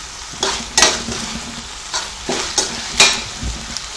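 Manchurian sauce with spring onion being stir-fried in a pan, a sizzling base broken by several quick scraping stirs at irregular intervals, close and fairly loud with no talking.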